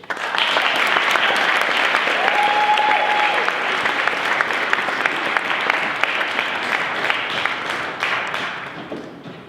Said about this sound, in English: Audience, please give the competitors a moment of applause as they take the stage.